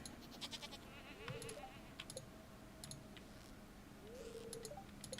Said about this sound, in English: I'm clicking on the goat.